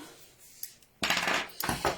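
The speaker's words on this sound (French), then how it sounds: "On prend des ciseaux." A pair of metal craft scissors is picked up and handled at a table while trimming paper strips for a photo layout: two close, clinking bursts of metal-on-surface clatter after a quiet start, with no voice.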